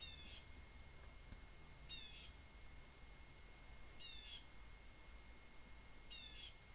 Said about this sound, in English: This bird is very insistent on destroying my stream.